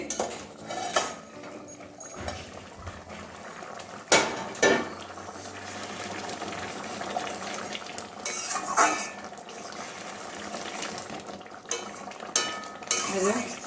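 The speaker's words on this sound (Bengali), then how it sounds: "এবারে ঢাকনাটা খুলে নিচ্ছি" A lid lifted off a pot of simmering fish and fish-roe curry, giving a few sharp metallic clanks and clatters over soft bubbling and stirring, close by with faint background noise.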